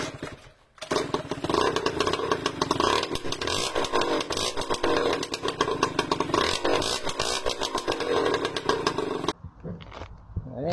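Moped fitted with a Derbi exhaust pipe, its engine revving hard and loud at close range in a raspy, buzzing roar for about eight seconds, then cutting off abruptly before a brief burst returns.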